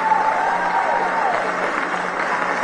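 Crowd applause at a campaign speech, a dense steady wash of clapping heard from a distance with a faint voice over it.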